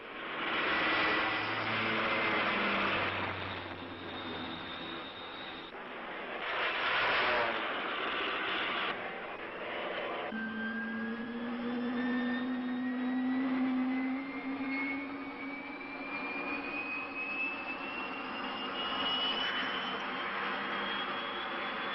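A jet aircraft is catapulted off the French aircraft carrier Foch: a roaring engine that swells and drops, then a long rising whine that climbs steadily as the thrust builds, loud and close.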